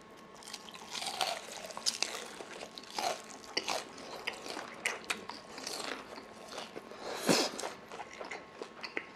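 Crisp crunching bites into deep-fried guobaorou, Korean-style sweet and sour pork with a crackly batter, several quiet close crunches and chewing sounds spread across the stretch with no talk.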